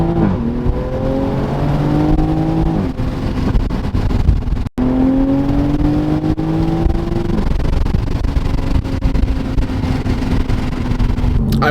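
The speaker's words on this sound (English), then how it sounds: "I don't know if you can hear the turbo spool." A Toyota A90 Supra engine revving hard, loud and close, with rising turbo spool whine over a deep roaring drone through repeated pulls, briefly cutting out midway before climbing again.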